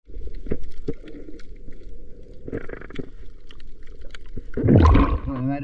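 Underwater, strong sea waves and current after a storm churn and gurgle in muffled surges, with scattered clicks and knocks and a louder rushing swell near the end.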